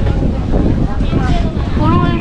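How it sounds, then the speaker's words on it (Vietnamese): Heavy wind buffets the microphone at a seaside park in Osaka, making a constant loud rumbling roar, while people talk faintly underneath. "Ở gần biển, gió nhỉ."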